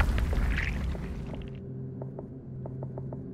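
Iron maiden mechanism in the dark fantasy game Mortal Shell grinding open with a heavy boom and rumble, then a run of metallic ratcheting clicks as it settles.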